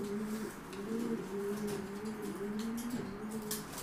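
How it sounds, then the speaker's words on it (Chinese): Pigeons coo at a nest as a male leads a female to lay eggs, a straw nest placed inside; close, continuous rolling coos run through the whole stretch with no talk. "这样就是公鸽子引导母鸽子在那产蛋了"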